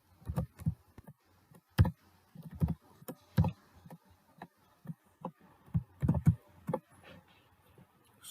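Typing on a computer keyboard while writing a simple Python program on Windows 10, with bursts of close, crisp key clicks in an irregular rhythm and short pauses between words.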